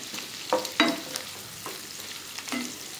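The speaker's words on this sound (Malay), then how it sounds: "lepas tu kita goreng ikan bilis pula" Anchovies sizzle and crackle in a pan, with a few scraping stirs and light spatters at close range.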